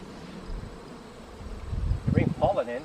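Honeybees buzz around an open beehive during an inspection, a low steady hum that swells louder toward the end as bees move close.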